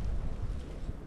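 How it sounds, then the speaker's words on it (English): Wind buffeting a microphone outdoors on a small farm, a loud, rough low rumble filling the whole brief moment with no other sounds. "Boy, it's windy."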